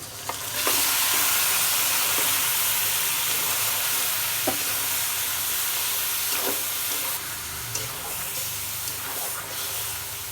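Spice-marinated buffalo meat hits a hot pan of fried chopped garlic and sets off a loud, steady sizzle and hiss that lasts throughout, broken by occasional scraping clicks of stirring.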